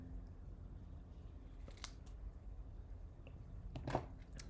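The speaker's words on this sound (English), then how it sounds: "We're just going to cut on an angle." Quiet scissors snip at an angle through a craft piece, giving a couple of brief crisp cuts over a low background hiss.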